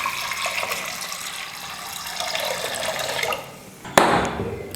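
Water is poured steadily into dal with cumin for radish sambar, a continuous close splashing stream lasting a few seconds, then a sharp metallic clatter right after the pour stops.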